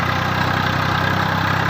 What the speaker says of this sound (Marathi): ट्रॅक्टरचा आवाज बघू शकता मित्रांनो